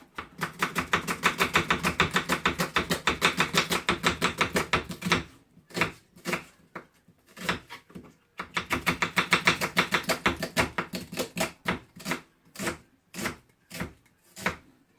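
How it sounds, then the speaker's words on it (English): A knife chops onions quickly on a board for onion bhaji. Two long bursts of rapid, even knocks are each followed by a few slower separate chops, close and distinct, with no talking. "I never keep going all the way to the end when I'm doing fast chopping"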